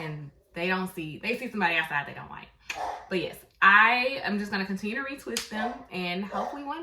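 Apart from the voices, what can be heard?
None of the usual background noises is heard.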